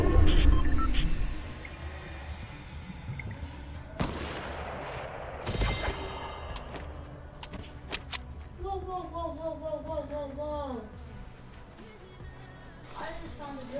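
Sniper rifle shots ring out in a shooter video game, a few sharp distant cracks spaced apart amid game ambience and rustling movement, with a warbling tone rising and falling later on.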